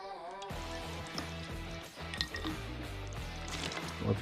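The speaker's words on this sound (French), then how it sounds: "Toute l'eau est absorbée par la capote." Sparkling water poured onto the fabric convertible top of an Audi A5 cabriolet soaks in with a steady close trickle, wet squishing and drips, alone without speech.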